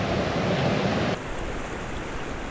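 A river runs heavily with a dense, broadband rush of water, loud at first and then dropping to a steadier, quieter flow partway through, with no talking.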